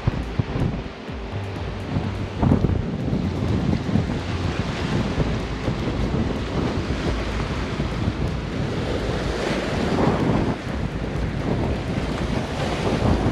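Strong gusting wind buffets the microphone over a steady roar of breaking waves on a bay at Albany Bulb, loud and continuous, with no voices.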